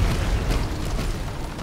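An explosion booms in Monster Hunter World: Iceborne during a fight with Uragaan: a loud, dense rumble that rolls on steadily for its whole length, heard with no voices.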